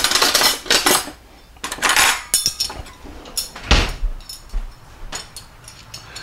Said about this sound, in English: get my fork and my knife